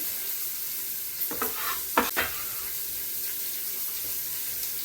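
Onion softening in oil in a pot over lowered heat, a faint steady sizzle broken by a few clustered scraping stirs in the middle, close and otherwise quiet.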